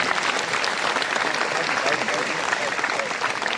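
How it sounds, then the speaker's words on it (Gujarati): Steady, dense applause from a crowd at an honouring ceremony, continuous and fairly loud throughout with no pauses. "મોમેન્ટોને આપણે સૌ તાળીઓના ગડગડાટથી વધાવીશું"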